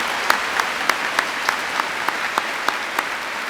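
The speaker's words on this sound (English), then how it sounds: "Please join me in a round of applause to recognize all of our platform guests." Sustained audience applause fills a high school graduation ceremony for the class of 2015, a steady wash of clapping hands from a large crowd, even in level and unbroken throughout.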